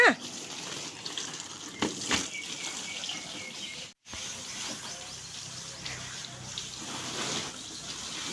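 Water runs steadily from a tap with a continuous hissing splash, broken by a brief knock and a short silent gap partway through.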